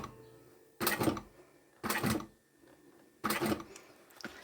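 A sewing machine with a size 18 needle stitches a jeans hem in three short, loud bursts of rapid mechanical clatter, separated by brief pauses, close up and without talking.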